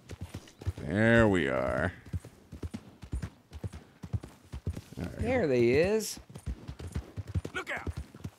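Horse hooves clip-clop in Red Dead Redemption 2, a steady trotting patter running under two stretches of someone talking.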